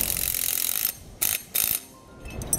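A ratchet wrench clicks rapidly as it tightens a nylon lock nut onto an air spring mounting plate, a steady run of ratcheting followed by two short bursts and a quieter final few clicks.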